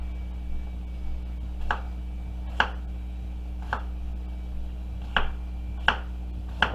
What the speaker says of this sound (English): I'm just chopping all my potatoes up